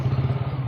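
A motorcycle engine idles with a low, steady throbbing hum, close and fairly loud for under a second, with no voices.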